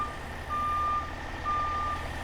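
Truck reversing alarm in American Truck Simulator, two steady electronic beeps repeating over a low idling diesel rumble.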